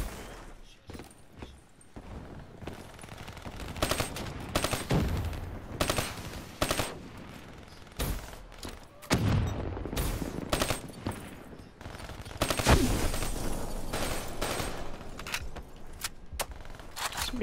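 Repeated bursts of automatic gunfire from the video game Call of Duty: Black Ops 3, loud rattling volleys separated by short pauses throughout, with faint background game noise.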